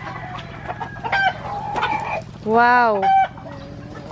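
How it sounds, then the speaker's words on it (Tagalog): Labuyo native junglefowl chickens cluck and call in short bursts over several seconds, with one drawn-out call standing out, close by; a voice speaks briefly among them. "nandito po yung mga labuyo ni Kakabsot na iba"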